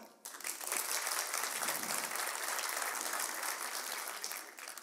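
Applause from a stand-up comedy festival audience, a dense, steady wash of clapping from a large crowd that starts abruptly and holds throughout.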